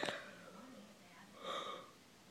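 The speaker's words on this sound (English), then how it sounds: "Every time I get on camera, I yawn." A close, quiet yawn with a drawn-out breathy vocal sigh, starting with a sharp inhale and trailing into a soft, stretched exhale.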